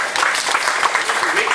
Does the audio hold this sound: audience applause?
yes